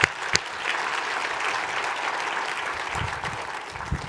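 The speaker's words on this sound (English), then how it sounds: "that deserves a big round of applause" At a real estate industry breakfast, an audience gives a sustained round of applause, a fairly distant, even wash of clapping with a couple of sharper claps near the start.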